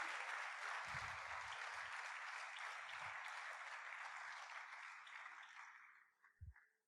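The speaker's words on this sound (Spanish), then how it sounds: "¿Le podemos dar otro aplauso a Dios fuerte en esta noche?" A church congregation claps together in sustained applause during an evening service, a broad steady wash of many hands that fades out near the end, with a few low thumps underneath.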